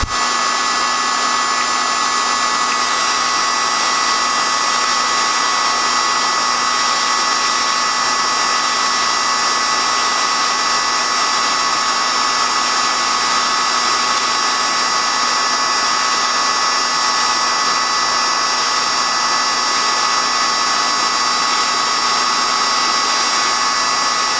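Hot air tool heating the pins of a TQFP48 surface-mount STM32F microcontroller chip for removal, a continuous loud blowing hiss with a steady whine, unbroken throughout and with no speech.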